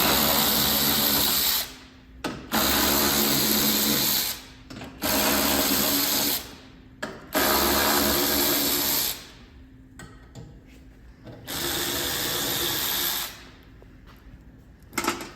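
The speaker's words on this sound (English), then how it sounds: "There's 5 bolts here that need to be removed." A power tool removes five bolts from the wheel well of a 2022 third-generation Toyota Tundra, in four or five loud sustained whirring bursts separated by short pauses, with faint clicks between them.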